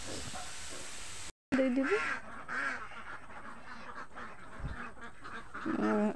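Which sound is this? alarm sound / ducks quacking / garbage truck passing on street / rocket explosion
ducks quacking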